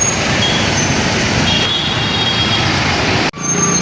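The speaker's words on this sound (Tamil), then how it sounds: "அதனால தான் இந்த ரோடு எப்போ பார்த்தாலும் டிராஃபிக் ஜாமாகவே இருக்குது" Busy road traffic on Residency Road in central Bangalore, a loud dense wash of passing vehicles and engine noise with a faint high tone, briefly cut off near the end before resuming.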